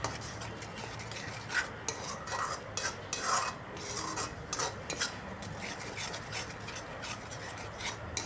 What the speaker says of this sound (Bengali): লবণটা দিয়েও আরও কিছুক্ষণ কষিয়ে নিচ্ছি।